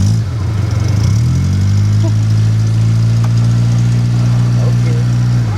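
A 1989 Suzuki Forsa GLX with a replaced exhaust idles steadily with a deep, throbbing exhaust rumble, close and continuous, settling into an even low drone after a brief rise.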